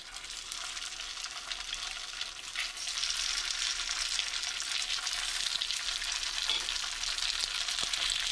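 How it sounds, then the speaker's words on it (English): Steady, crackling sizzle of polenta frying in melted butter in a pan, close and continuous, growing a little louder partway through with no talking. "once that butter is fully melted and it starts to sizzle a little bit"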